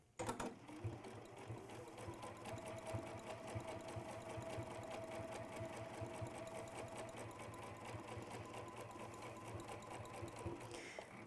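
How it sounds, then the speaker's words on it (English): A sewing machine stitches bamboo fabric in one steady, fast mechanical run lasting about ten seconds, close but quiet, with a low motor hum under the rapid needle clatter and no talking. "as you come round, do a couple of stitches"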